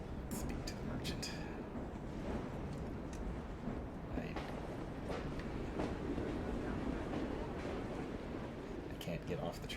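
In Assassin's Creed Syndicate, a train ride makes a steady, loud rolling rumble with rail clatter and scattered metallic clicks. It runs continuously the whole time, with faint indistinct voices mixed in.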